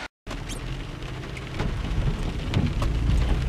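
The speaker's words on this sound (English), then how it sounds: "Look at beautiful downtown Rutherford on a rainy day." Steady rain falling on a rainy day in downtown Rutherford, a dense hiss of drops with a low rumble of thunder building toward the end, no voices.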